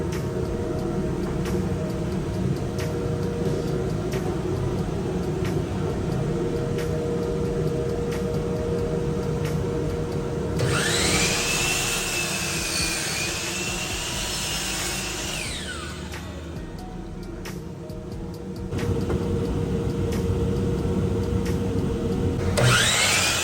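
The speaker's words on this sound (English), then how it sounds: "we're gonna cut these boards to 36 inches long" A power saw cuts wooden boards to 36-inch lengths against a clamped stop, running with a steady loud whine that rises into one long cut partway through and then settles again.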